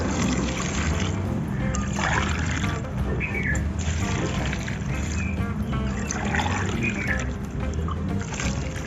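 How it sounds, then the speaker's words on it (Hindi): Three glasses of water splash and pour steadily into a large pot of beef korma for several seconds, a continuous gurgling flow with no talking. "अब हम इसमें 3 गिलास पानी के डाल देंगे।"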